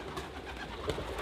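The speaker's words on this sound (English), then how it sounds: "Follow the pigeons." Pigeons cooing on Inchgarvie Island, a soft, fairly faint murmur over steady background noise with a brief louder coo near the end.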